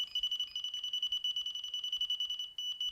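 Delkim bite alarm on a fishing line, sounding a rapid run of close, sharp electronic beeps that roll into a continuous warble, steady and fairly loud throughout.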